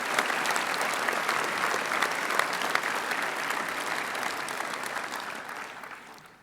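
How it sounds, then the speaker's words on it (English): A school prizegiving audience gives a steady round of applause for students, a dense wash of many hands clapping that holds evenly and then tapers off at the close. "So give those students a big round of applause,"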